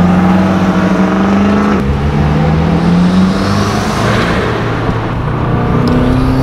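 A turbocharged car engine accelerates through a tunnel, its loud droning pull echoing and rising steadily in pitch, with a brief shift dip before climbing again, heard close and continuous.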